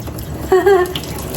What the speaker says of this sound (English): I'm going to turn my sink on for just a minute.